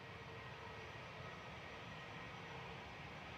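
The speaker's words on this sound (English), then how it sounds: "EasyJet heading off to, I think it's Amsterdam" An EasyJet jet airliner departs Manchester Airport: a faint, steady, distant engine roar and rumble that holds evenly throughout, with no voices.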